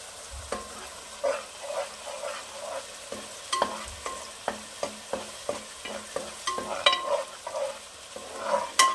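Cauliflower spices frying in a pan for a Bengali masala kopi dish, stirred with a run of rhythmic scraping clinks over a low steady sizzle. The sound is close and moderately loud, with no talking.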